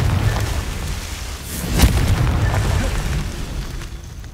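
A Confringo explosive spell in Hogwarts Legacy lands as a single deep boom with a sharp crack near the middle, then a rumbling tail under a steady background.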